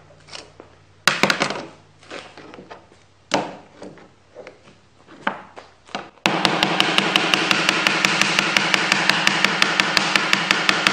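Sharp hammer strikes land on a jointer's hard metal infeed table at irregular intervals, then give way to a fast, steady train of loud mechanical ticking.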